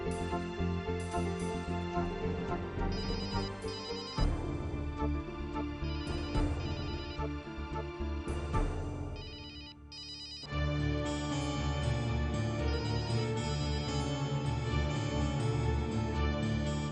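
A phone ringtone plays as a steady musical melody, looping for several seconds with a brief pause before resuming, clear and close.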